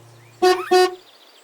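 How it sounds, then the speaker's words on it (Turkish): Two short, loud car horn honks in quick succession, each about a third of a second, over a quiet background. "Korna"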